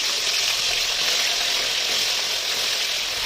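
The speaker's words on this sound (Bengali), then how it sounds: "আমি এবার এই চিকেনটাকে এই তেলের মধ্যেই দিয়ে দেবো।" Chicken pieces fry in hot oil with a loud, dense, continuous sizzle close by, holding steady from start to finish with no talking.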